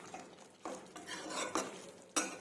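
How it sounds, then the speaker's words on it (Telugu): A spoon stirs chole masala curry in a pot, scraping and clinking against the metal in several distinct strokes with a soft wet swish between them, close and fairly quiet. "ఇప్పుడు ఒకసారి కలిపేసుకుందాము"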